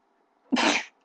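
A single sharp sneeze bursts out close by, lasting under half a second against a quiet room during a card game of Exodia versus Hopeless Dragon.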